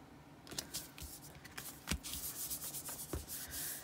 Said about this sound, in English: I like to kind of rub it in on the back of the card